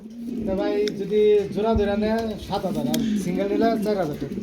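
Fancy pigeons coo in a loose, steady run of throaty rolling calls, close and fairly loud, sounding like several birds together at a pigeon seller's loft, with someone talking over them.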